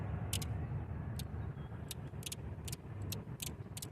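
A Nissan 300Z engine being cranked over with a jumper wire during a spark check, a low steady churning hum close by, with short sharp ticking snaps over it and no talk.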